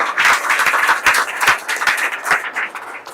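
An audience at a Family Fun Club presentation claps loudly and energetically, with dense, uneven handclaps sounding close and continuous throughout.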